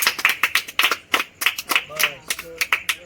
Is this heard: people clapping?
yes